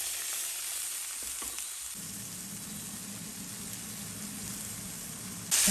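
Soy sprouts frying in a pan with crushed dried chile, a steady bright sizzle that holds evenly throughout, close and moderately quiet, with a louder burst of crackle at the very end and no talking.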